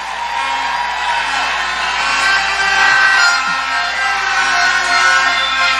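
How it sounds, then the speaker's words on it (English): A crowd at a Bahamas primary school Student of the Year awards ceremony applauds and cheers for the nominees, a loud, dense and sustained roar of clapping and voices. "Give them a round of applause"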